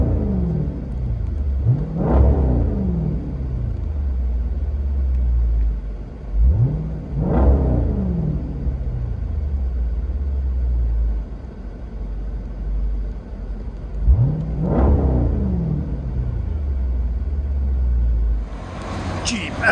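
A Jeep Grand Cherokee SRT with a 6.4L HEMI V8 and an aftermarket exhaust idles with a deep, loud rumble, then revs sharply three times, each rev rising and falling back.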